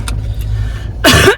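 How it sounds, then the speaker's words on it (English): A car drives on the road with a steady low engine and road rumble heard from inside, ending in a loud burst of noise near the end. "So we're in the car, we're on our way to the doctor"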